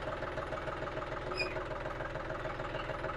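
A tractor engine idles and runs steadily with a low, even rumble and faint knocking as the clutch is released and it begins to move forward, close and continuous with no talk.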